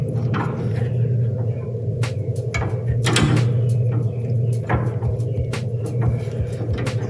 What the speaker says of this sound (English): And you will just rotate it around the tube